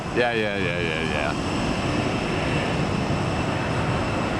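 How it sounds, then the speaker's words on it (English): A Boeing 757 airliner taxis at Atlanta's Hartsfield-Jackson airport, a steady broad engine roar heard from nearby with a brief voice at the start. "We're gonna go right past our other 75, which is just now taxiing."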